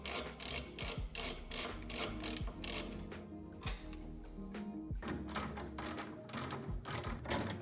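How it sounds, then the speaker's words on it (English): A spanner working a 17 mm bolt on a Honda Accord Euro coilover, fast repeated metallic ratcheting clicks in quick bursts, close and crisp, separated by short pauses and a few heavier clunks. "you will need a spanner because that 17 mil bolt goes all the way to here"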